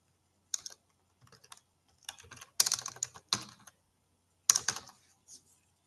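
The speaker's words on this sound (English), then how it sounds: "So as I'm typing, it's busy doing it." Fingers type on a computer keyboard in irregular bursts of quick, crisp key clicks with short silent gaps between them, close and fairly quiet.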